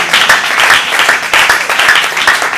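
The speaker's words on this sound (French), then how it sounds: "Acclamons très fort pour le roi." A church congregation applauds loudly at a Sunday service, dense sustained clapping filling the room without a break, with a few faint voices mixed in.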